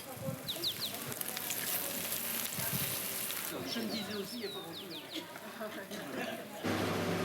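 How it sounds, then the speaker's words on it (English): Steady sizzling and crackling of grilled meats searing on a hot stone, with voices and clatter of a busy outdoor meal in a yard in the background. "we're served sizzling grilled meats on a hot stone."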